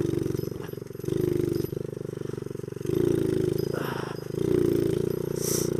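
A Honda Z50 minibike revving through short pop wheelies, its small single-cylinder engine buzzing steadily up close and swelling in three throttle surges, with a faint scrape mid-run.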